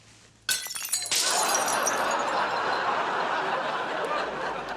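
Glass object smashes with a loud sudden crash, followed by a second burst of shattering and a long bright spray of tinkling shards settling, no voices.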